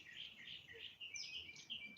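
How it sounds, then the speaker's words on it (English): Small birds chirp and sing in quick, high, overlapping tweets on a Sunday morning. The calls are soft and fairly distant, with no voices over them. "the singing of the birds"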